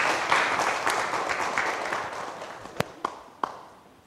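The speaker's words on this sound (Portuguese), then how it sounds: "Palmas para a Rafaela." Audience applause after a call to clap for a young scout at a church gathering, a broad steady wash of clapping for several seconds that thins out toward the end with a few sharp separate claps.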